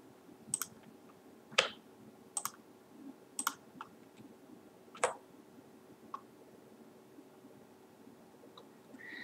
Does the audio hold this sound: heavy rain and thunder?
no